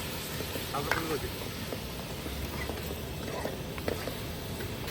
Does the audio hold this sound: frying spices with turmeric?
yes